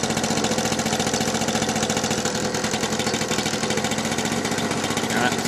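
A small engine, just started with the choke, idles steadily in a rapid, even putter. It sounds close and loud and continues without a break, with no speech.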